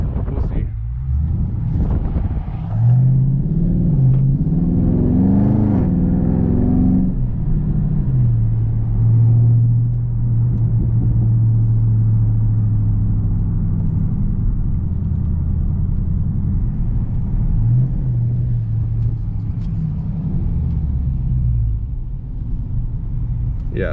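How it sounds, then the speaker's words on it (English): Exhaust note of a 2019 Dodge Challenger Scat Pack muscle car fitted with a mid muffler delete, driven in sport mode: a steady deep low rumble with rising and falling engine pulls, heard continuously from inside the moving car with wind noise. "With the Mid Muffler Delete, I feel like it's I would say like a clean muscle car sound"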